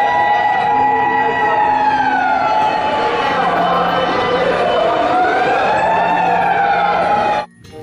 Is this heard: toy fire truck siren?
yes